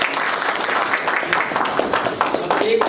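A theatre audience claps for the performers, a thick, sustained wave of applause filling the room for about three seconds, with voices mixed in beneath it.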